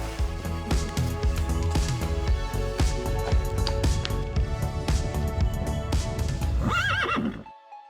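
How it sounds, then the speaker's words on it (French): A six-year-old Selle Français show-jumping horse whinnies loudly near the end, over a busy background of hoof clatter, thuds and movement throughout. "Je vous présente Tam Tam, un jeune cheval selle français de 6 ans qui fait du saut d'obstacle."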